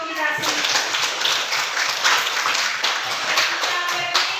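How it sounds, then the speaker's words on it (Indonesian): A classroom group of students claps together in continuous, lively applause that stays fairly loud and close throughout, with a faint voice briefly under the clapping. "Tepuk tangan dulu untuk kita semua."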